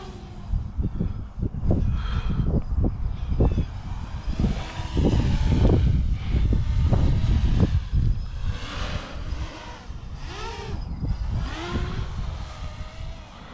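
An FPV drone on FPVCycle 30mm motors punches out. Its motors whine and surge in repeated throttle bursts, loud and close, with rising and falling pitch sweeps and some wind noise throughout.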